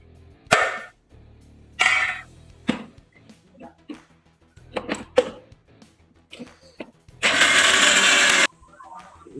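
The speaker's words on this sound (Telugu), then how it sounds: "ఇప్పుడు దీన్ని మనం మిక్సీ పడదాం." A mixer grinder whirs in short, loud bursts as it grinds eggs, chickpeas and moong dal, with quiet clatter between pulses and one longer sustained run near the end.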